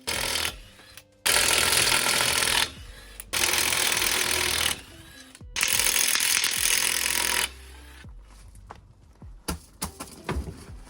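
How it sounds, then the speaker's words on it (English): Loud bursts of a power tool whirring in long runs with short pauses, followed by scattered clanks and knocks of metal parts, while a front wheel is removed from a rusty Vauxhall Nova. "now I could remove that front wheel"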